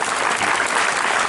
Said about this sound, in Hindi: जोर से ताली बजाओ कि हम सहयोग देंगे।